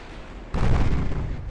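Battleship naval gunfire sounds in the warship game Ultimate Admiral: Dreadnoughts: a single heavy, booming shot hits abruptly after a quieter rumble, then rolls on loudly to the end.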